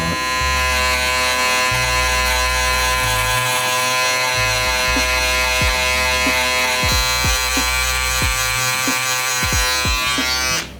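A close electric shaver buzzes steadily throughout, trimming a beard line in a barbershop, its motor pitch shifting slightly as it presses against skin, with no talking.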